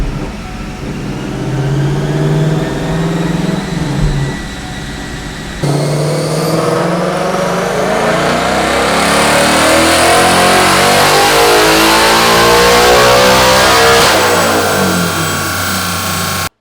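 A 2024 Ford Mustang Dark Horse revs hard on a dynamometer in 4th gear, its engine note climbing steadily through a long, loud, continuous pull after a brief shift-like break near the start, then cutting off at the end.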